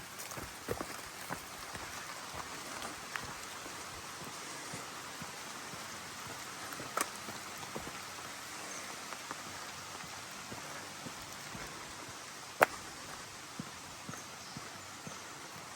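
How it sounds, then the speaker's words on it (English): Steady spring rain patters on a surface along a hiking trail throughout, with occasional louder drops and taps standing out against the continuous hiss. "It's raining, as is a normal case for this spring."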